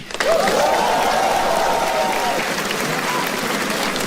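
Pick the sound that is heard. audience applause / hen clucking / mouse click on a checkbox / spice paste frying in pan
audience applause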